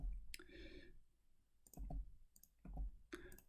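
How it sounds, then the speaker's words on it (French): Playing cards are turned face up on a table during setup of a board game, several sharp papery flicks spaced apart, close and clear, with no talking over them. "on va retourner les cartes des joueurs"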